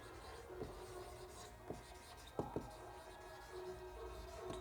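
Faint chalk or marker strokes on a board during a Hindi chemistry lesson, a few separate short taps and scratches over quiet room tone.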